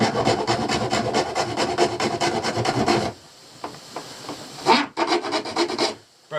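Rapid rasping back-and-forth strokes of a broken hacksaw blade cutting during a boat floor and switch panel refit, loud and close, a fast run of strokes, a brief halt, then a second shorter burst.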